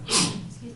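A single quick sneeze during a town planning board meeting, short and moderately loud with a breathy burst, followed by faint room noise.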